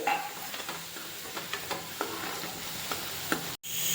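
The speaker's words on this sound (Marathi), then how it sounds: "त्यांनासुद्धा तेलात छान परतवायचे" Masala with Kashmiri red chili fries in oil with a steady close sizzle and occasional spoon scrapes, and a brief cut near the end.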